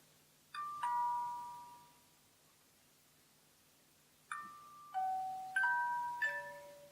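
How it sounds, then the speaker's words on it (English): Small bells ring out in clear, sustained tones, struck twice near the start and then several times in quick succession after a pause, each note decaying slowly in a quiet room. "all of a sudden the bells started to tinkle"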